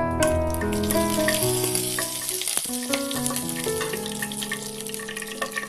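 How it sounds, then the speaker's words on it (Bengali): A dried red chilli, whole cumin and a bay leaf crackle and sizzle in hot oil for a vegetarian ghugni, steady frying with faint kitchen clatter and a tonal hum over it. "একটা শুকনো লঙ্কা, গোটা জিরে আর তেজপাতা দিয়ে দিলাম।"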